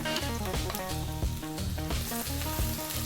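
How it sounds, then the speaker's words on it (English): Chopped garlic and ginger sizzle steadily in hot sunflower oil in a wok, a continuous frying hiss running beneath prominent rhythmic background music. "let it do its thing in that oil. It will infuse the oil and it will start to brown."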